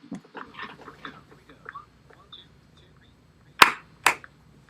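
Two sharp, loud hand claps a half-second apart ring out near the end, following quiet scattered voices, in a recorded virtual caroling performance.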